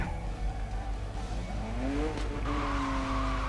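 Lamborghini racing through Need for Speed Most Wanted, its engine droning loudly and steadily with a rising tire-skid squeal through the middle, game music and effects layered over it.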